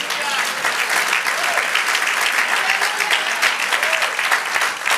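A church congregation claps loudly and continuously for about five seconds, with scattered voices and cheers rising over the dense, rhythmic applause.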